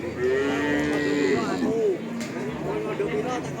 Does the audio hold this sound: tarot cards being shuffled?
no